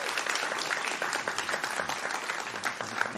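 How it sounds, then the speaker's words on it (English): Audience applause for two presenters called to the stage at a morning food-systems futures event, a steady dense clapping from a large crowd that holds evenly for the whole stretch. "big round of applause, please, for Andrew and Andreas."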